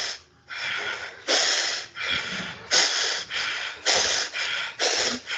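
Forceful, rhythmic breaths push in and out during a yoga breathing exercise, about eight loud, close, breathy strokes in a steady pulse with no talking.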